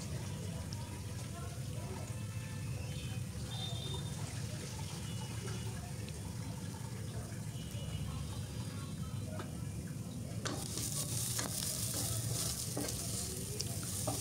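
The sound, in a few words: frying lentils in oil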